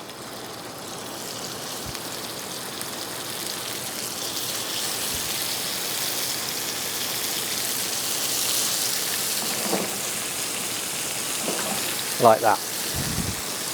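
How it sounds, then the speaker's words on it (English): Pork fillet medallions seasoned with salt and pepper sauté in a hot pan, giving a steady, dense sizzling hiss throughout, with a few brief spoken words near the end. "I'm going to just saute these off"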